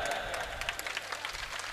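A crowd applauds at a Hindi-language public gathering, sustained dense clapping at moderate level with a steady wash of hands and faint crowd noise throughout.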